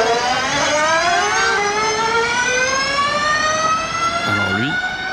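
A race car pulls away at full speed on a circuit, its engine rising steadily in a loud, climbing whine that holds for several seconds. A second pitch sweep comes in near the end.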